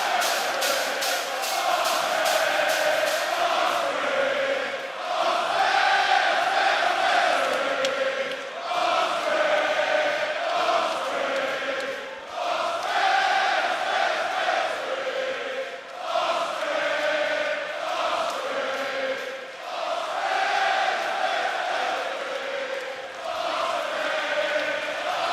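A large AEW Dynamite wrestling arena crowd cheers and roars continuously, loud and sustained with swelling waves of noise, as a wrestler soaks up the moment in the ring.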